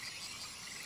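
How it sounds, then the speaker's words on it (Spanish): Green toad croaking in the jungle of Shadow of the Tomb Raider, a brief low croak set in a steady bed of ambient jungle noise. "un sapo verde."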